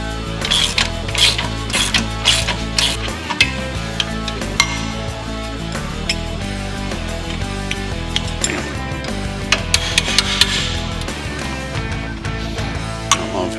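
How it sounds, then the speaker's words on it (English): Ratchet wrench loosening the lower shock mounting bolts on a Jeep Wrangler JL during a suspension lift install: rapid, steady clicking runs throughout with a few sharper metallic clinks, close and fairly loud, with no voices. "Next we'll remove the lower shock mounting bolts"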